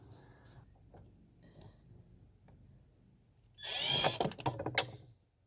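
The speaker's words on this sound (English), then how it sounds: "nice charged drill, and we're gonna attempt to do this." A charged cordless drill whirs loudly in a couple of short, close bursts after a few quiet handling clicks and knocks, then stops.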